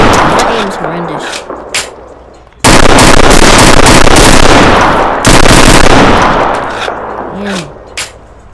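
Loud bursts of rapid video game gunfire erupt in a multiplayer shooter on a South Bronx map, sustained automatic volleys dominating the middle, with players talking excitedly in between.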